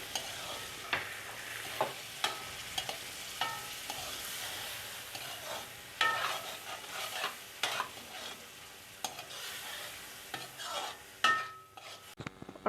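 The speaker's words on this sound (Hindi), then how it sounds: "डाल के इसको हिला लेंगे, अच्छी तरह मिक्स कर लेंगे मसाले।" Boiled daal mash being stirred with spices in a pan, a steady run of scraping, sloshing stirs with regular spoon strokes against the metal, close and clear with no talking.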